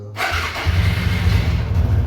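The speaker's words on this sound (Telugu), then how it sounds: "స్టార్ట్ అయింది బైక్" A motorcycle engine cranks and catches, then settles into a loud, steady idle close by; the bike has a faulty headlight that is not working.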